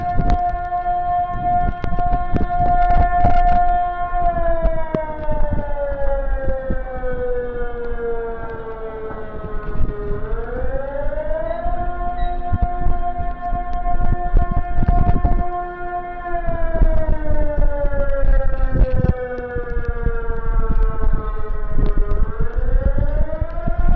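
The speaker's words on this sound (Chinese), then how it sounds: "这也就是一个警报的预演而已" A civil defense air-raid siren sounds during a drill, a loud sustained wail that slowly falls and rises again in long cycles, running continuously for the whole stretch with wind rumble and faint traffic beneath it.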